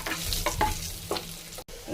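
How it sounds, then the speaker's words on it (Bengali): Garlic tempering sizzles in a little oil for a tomato khatta, a steady close frying hiss broken by a few spoon scrapes against the pan and one brief dropout near the end. "একটু ফোড়ন দিয়ে নেব, অল্প একটু তেল দেব। ফোড়নে রসুন দেব"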